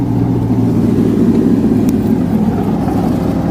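A 1988 Chevy Silverado truck engine idles steadily with a possible exhaust leak and a smoky, worn condition, a loud, close, low rumbling drone that holds even without voices.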